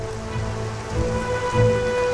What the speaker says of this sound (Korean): 빗줄기가 꽤 굵습니다.